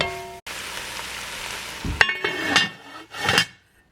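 Mushrooms cooking down in a pan for a home-cooked meat sauce: a steady sizzle, then a few clattering knocks and scrapes of the utensil against the pan, close by.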